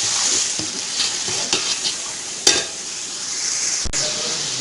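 Desi chicken with salt being stirred and fried in a pan, a loud steady sizzle broken by occasional utensil scrapes and a couple of sharp clinks against the pan, heard up close.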